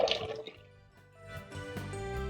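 Potatoes being transferred into a pot of about four cups of water on a high flame, giving brief splashing and trickling water sounds with a few drips, close and moderately loud.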